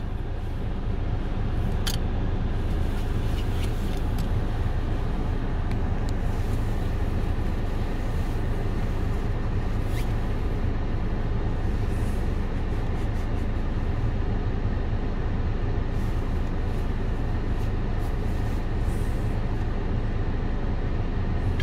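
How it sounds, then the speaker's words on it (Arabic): A car engine idling steadily with the air conditioning running and the AC button switched off, a constant low hum at stable RPM with faint ticks and clicks, heard alone throughout. "المكيف داير من غير كبسة الـ RC. الآن الـ RPM مستقر هنا"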